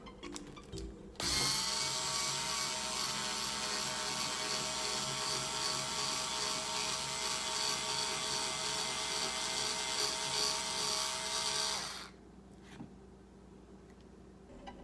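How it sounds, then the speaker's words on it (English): A power drill whirs steadily at high speed for about ten seconds, boring into a chocolate orange, loud and close, then cuts off abruptly. "I found the drill, so we're gonna see how this method works for opening a chocolate orange."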